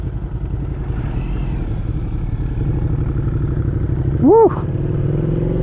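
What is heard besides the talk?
Suzuki SV650 motorcycle engine while riding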